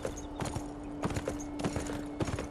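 Horse hooves clop in a steady rhythmic gait while riding in the video game Beyond Two Souls, moderately close under faint background ambience.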